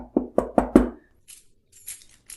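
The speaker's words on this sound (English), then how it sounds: "We hear big keys jingle." Four sharp metallic clinks in quick succession, then faint, scattered jingling, as a ring of big keys is shaken close by in a quiet room with no talking.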